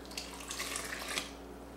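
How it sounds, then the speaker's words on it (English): Water is poured into a mixing bowl for white sandwich bread dough, a soft, faint splashing trickle lasting under two seconds. "we're going to add our water"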